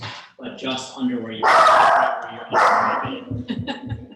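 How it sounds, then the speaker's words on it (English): A dog barks twice in loud, close bursts while a person talks in a kitchen setting, with speech continuing around the barks. "That's my dog."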